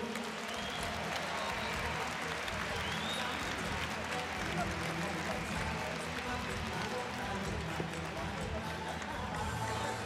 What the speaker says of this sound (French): Avant la décision, ils méritent tous les deux encore une fois vos applaudissements.